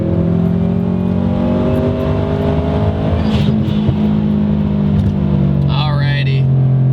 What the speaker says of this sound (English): This car pulls really nice, honestly.